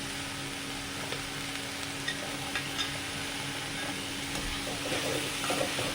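A dried prawn and plantain curry is stirred in a pan, giving a soft, steady sizzle with faint scraping under a constant background hum, fairly quiet and without talk.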